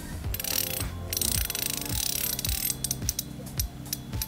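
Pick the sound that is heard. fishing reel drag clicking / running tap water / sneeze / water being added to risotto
fishing reel drag clicking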